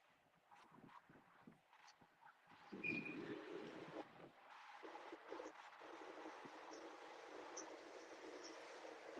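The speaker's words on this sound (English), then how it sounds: "Oh, that train's loud." A loud train passes near a river where fishing is underway, its broad rumble swelling a few seconds in and holding steady to the end, with faint birds and wind around it.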